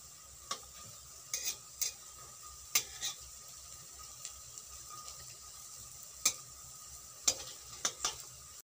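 Rasbora lentil fritters fry quietly in oil in a home kitchen, a soft steady sizzle broken by scattered sharp clinks and scrapes as a utensil turns them, with no talk.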